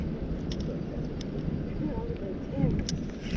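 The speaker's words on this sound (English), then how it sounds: "this wind is pretty bad" Strong wind at Rowlett Creek roars steadily into the microphone as a constant low rumble, with faint higher chirps and brief clicks scattered over it.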